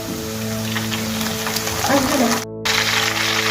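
Salt water is sprinkled over potato chips frying in oil, and a brief burst of spattering rises over a steady frying hiss and a faint hum. It drops out for a moment and then resumes.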